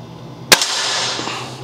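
A single sharp shot from a tuned Gamo Hunter 440 air rifle firing an 18-grain JSB pellet at 30 metres, a crisp crack followed by a short echoing tail in a quiet room.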